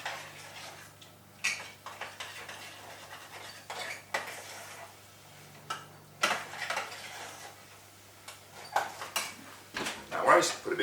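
A utensil scrapes and clinks against a pan while milk is stirred into a roux for macaroni cheese, with intermittent knocks and taps over a low steady hum and a voice talking.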